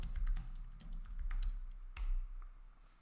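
Computer keyboard typing while entering a terminal command for a Cypress project setup: a few brisk bursts of key clicks, close and moderately quiet, with short pauses between groups and no talking.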